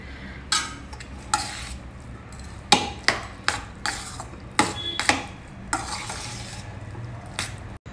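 A utensil stirs and scrapes a tamarind gojju mixture in a pan, with scattered sharp clinks and knocks against the metal over a faint background hiss, loosely spaced and close by.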